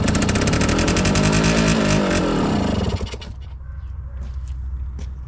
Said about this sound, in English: key on, starter engage.